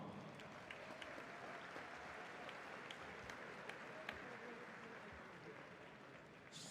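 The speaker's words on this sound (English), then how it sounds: "Let's have a round of applause for these warriors." Audience applause at a mixed martial arts fight event, steady sustained clapping from a large crowd filling the whole stretch at an even level.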